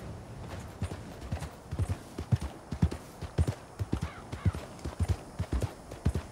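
Horse hooves clip-clop at a steady galloping rhythm while riding in the video game Red Dead Redemption 2, with repeated close, fairly loud thuds and faint wind in the background.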